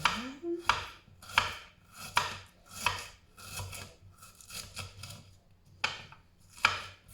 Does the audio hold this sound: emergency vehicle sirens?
no